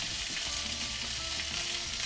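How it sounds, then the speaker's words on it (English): Onions frying in a little oil in a pan for Hong Kong restaurant-style beef chow mein, giving a dense, continuous loud sizzle close up, steady throughout with no voices. "I'm gonna cook up my onions until they're just slightly translucent"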